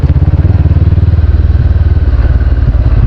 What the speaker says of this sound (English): Try to have the bike in the right gear there, Captain Drinky.